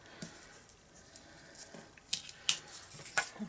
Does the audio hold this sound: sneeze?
no